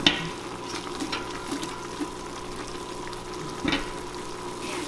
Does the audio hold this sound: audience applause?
no